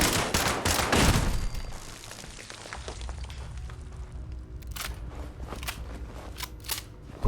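Automatic turret gunfire rattles in the Fallout 76 video game, a dense burst up front that eases into scattered, sharper shots and clicks.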